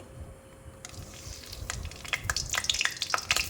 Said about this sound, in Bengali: তেল দিয়ে আমি এখানে দেব একটু ফোড়ন দুটো তেজপাতা দেব